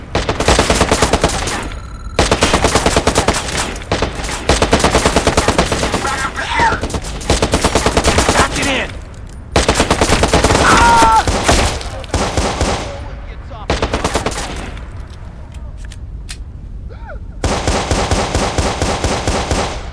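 Gunfire in the video game Watch Dogs: loud, sustained bursts of automatic weapon fire with short pauses between volleys, close and harsh, with brief voices heard in the gaps.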